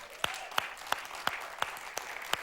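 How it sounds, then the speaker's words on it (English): An audience applauds Soul to Soul at a church gathering, a fairly quiet, steady patter of many hands with a few louder, evenly spaced claps standing out, the whole thing sounding slightly distant. "let's give them a round of applause"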